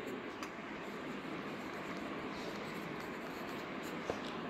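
A pen scratches continuously across paper during a maths class, a faint, even rasp with a couple of small taps, no voices.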